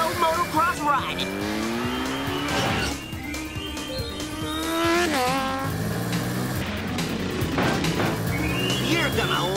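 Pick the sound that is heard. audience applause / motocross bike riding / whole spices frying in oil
motocross bike riding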